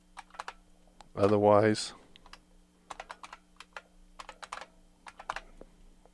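A root password is typed on a computer keyboard during a Kali Linux 2 install in VirtualBox: quick bursts of crisp, close key clicks, with one short spoken word partway through.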